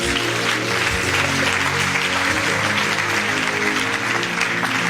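A church congregation claps and cheers in praise, a dense, steady wash of applause that holds at full volume from start to finish, with no talk over it.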